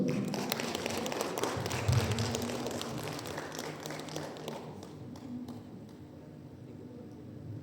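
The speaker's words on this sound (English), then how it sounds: "Round of applause, everybody." Audience at a graduation ceremony giving a round of applause, dense clapping that is loud at first and gradually thins and fades toward the end.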